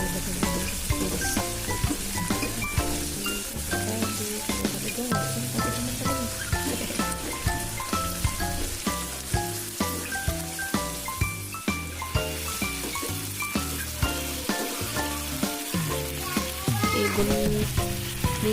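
Spicy-sweet tempe orek stirred in a frying pan after soy sauce goes in, a dense continuous sizzle under loud background music, with scraping from the stirring.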